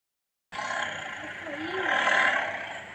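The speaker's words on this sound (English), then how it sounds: "This is a tiger. Tiger sound is." A tiger's roar begins abruptly after a moment of silence and continues as one sustained, loud, rough growl for about two and a half seconds, swelling slightly toward the end with nothing else audible.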